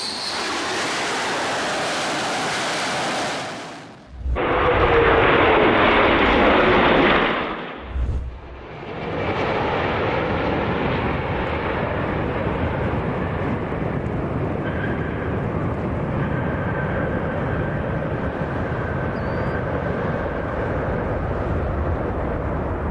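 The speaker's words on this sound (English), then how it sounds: "A Russian MiG touches down on India's biggest warship." A Russian MiG jet touches down on India's largest aircraft carrier and takes off again: a loud, steady roar of jet engine that surges, cuts briefly, then returns as a broad sustained rush continuing to the end, with no talking.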